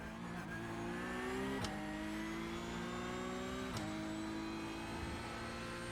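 Stock car engine from the Cup car in the iRacing sim, droning steadily close-up with harmonic whine, briefly dipping and climbing again twice as the driver shifts or lifts through corners; no talk.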